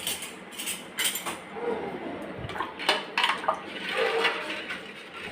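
Spoon clinking against a mixer jar while salt and black salt are stirred into water, a run of light scraping and tapping strokes at close range with some kitchen background noise.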